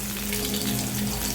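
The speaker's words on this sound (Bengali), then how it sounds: "মাছ ভাজাটা চুলায় দিয়ে দিলাম" Fish frying in a pan on a stove gives a constant, close, crackling sizzle with no pauses and no talk.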